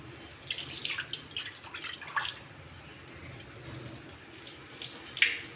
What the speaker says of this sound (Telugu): ఈ వాటర్ వంపేయాలి.